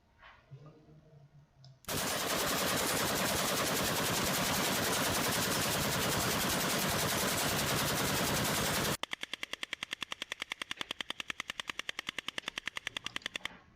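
A firearm firing a long continuous roar of rapid shots, then a steady fast train of distinct loud reports, close and dominant with no talk over it.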